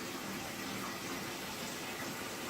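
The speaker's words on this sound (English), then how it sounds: "you put it over in the basin, and you fill it with water" Water runs from a tap into a pot set in a basin, a steady broadband rushing and splashing that stays even throughout, fairly faint.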